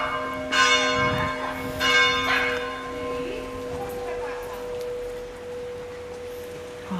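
Church bells ring loudly nearby in a Spanish town, several resonant strikes in the first few seconds with a long humming decay afterward.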